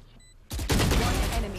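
Gunfire in the tactical shooter VALORANT, a loud, sudden burst of rapid automatic shots that bursts in after a quiet moment and continues densely to the end, with a voice talking faintly underneath.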